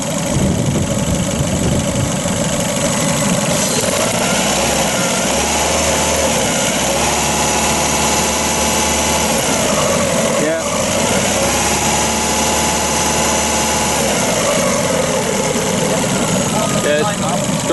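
A Fiat Panda 4x4 engine runs loud and steady close by, with a low throbbing drone rising and falling as it is revved; voices can be heard over it.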